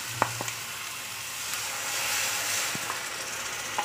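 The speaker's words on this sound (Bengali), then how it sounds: "এবার এই মশলাটা ভালো করে কষাতে হবে" Bengali spice paste (masala) fries in a pan with a steady hiss and sizzle, close and moderately loud, with a few sharp utensil clinks near the start and no talking.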